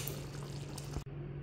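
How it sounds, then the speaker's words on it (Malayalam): First-press coconut milk is poured into a pan of tomato payasam, a soft, quiet liquid pour lasting about a second before cutting off abruptly. "ഇത് ഞാൻ 1ാം പാൽ കൂടി ഒഴിച്ചു കൊടുത്തു."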